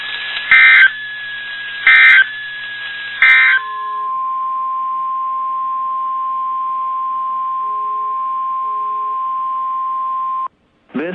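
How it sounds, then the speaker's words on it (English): A NOAA Weather Radio broadcast plays three short data bursts, then a long, loud, steady warning alarm tone of about seven seconds that stops abruptly. No voice is heard. "This is a test of the NOAA Weather Radio's warning alarm device."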